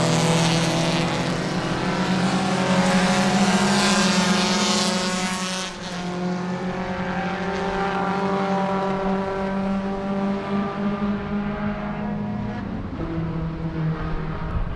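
A group of Volkswagen Beetle race cars in a qualifying race at Sebring roar past on the track, a loud sustained buzzing engine drone with shifting pitch as several cars go by in quick succession.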